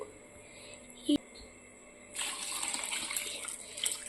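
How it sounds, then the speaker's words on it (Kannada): After a quiet start and a brief knock, water begins pouring steadily into a cooking pot of raw jackfruit until it is submerged, a close rushing splash that keeps going to the end. "ಈಗ ನೀರು ಹಾಕೊಳ್ತಾ ಇದ್ದೇನೆ ಇದು ಮುಳುಗುವಷ್ಟು ನೀರು ಹಾಕಬೇಕು"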